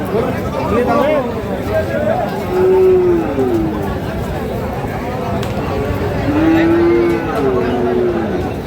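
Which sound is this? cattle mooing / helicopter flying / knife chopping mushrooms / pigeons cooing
cattle mooing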